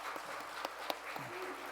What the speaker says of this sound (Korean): 우리 두 분에게 환영하는 박수를 보내겠습니다.